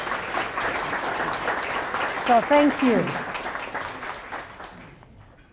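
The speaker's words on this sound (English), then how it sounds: "So give yourself an applause." Audience at the Utah Safety Council 2024 WISH Awards applauds itself, a broad steady clapping that swells briefly mid-way and then fades, with a speaker talking over it throughout.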